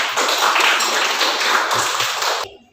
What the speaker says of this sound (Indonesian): Oke, terima kasih, kita kasih tepuk tangan.